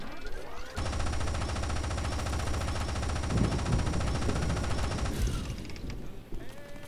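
A Gauss minigun in Fallout: New Vegas fires one long, dense, loud continuous burst of rapid shots for about four seconds, then stops with a brief tail.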